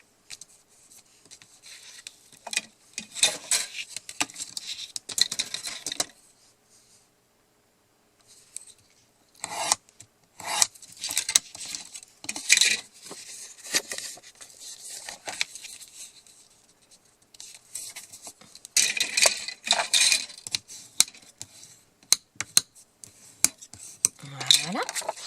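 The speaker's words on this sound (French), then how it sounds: "je vais peut-être tout simplement aussi marquer mon pli de l'autre côté" A paper fold being scored and creased flat on the other side while building a small seven-pocket craft booklet, heard as close, dry rasping and rubbing strokes in bursts with short pauses, with no talking.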